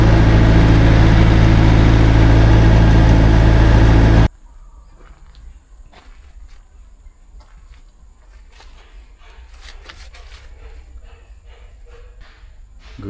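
A Kawasaki KVR4 road roller engine runs for a vibration test, a loud, dense rumble lasting about four seconds before it cuts away to near quiet with faint scattered clicks and knocks.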